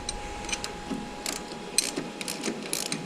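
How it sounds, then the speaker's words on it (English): A crane hoist takes up a little weight while lifting an engine out of an Acroduster aircraft, giving faint, irregular mechanical clicks and ratcheting ticks at moderate distance over low background hum, with no talking. "We've got our crane set up and just taking just a little bit of weight there."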